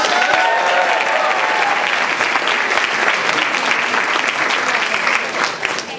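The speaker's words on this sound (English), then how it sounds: "Give me a round of applause." Audience applause at a Toastmasters district speech contest, loud sustained clapping from a large crowd with a brief vocal tone early on, steady throughout the clip.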